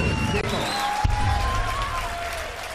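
A crowd at a BDO World Darts Championship match applauds and cheers steadily throughout, a sustained wash of clapping with faint voices mixed in.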